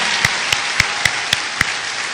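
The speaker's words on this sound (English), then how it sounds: "I just got to give another round of applause to our team" Rhythmic clapping for the basketball team at a court dedication ceremony, six evenly spaced sharp claps over a broad crowd hiss of applause.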